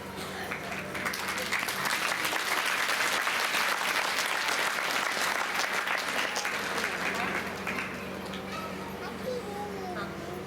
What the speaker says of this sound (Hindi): अगर पसंद है तो एक हाथ की ताली बजाएं